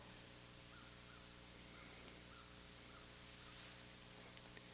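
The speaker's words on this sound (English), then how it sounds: "hear the crow cawing" A crow caws several times at a distance, its short calls faint against a steady background hiss.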